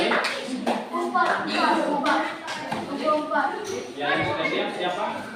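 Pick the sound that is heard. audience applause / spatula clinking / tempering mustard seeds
audience applause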